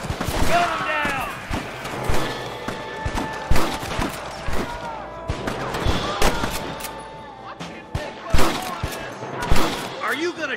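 Gunfire from a shootout with rustlers in Red Dead Redemption: repeated sharp shots in irregular bursts, some near and loud and others fainter, mixed with game voices shouting.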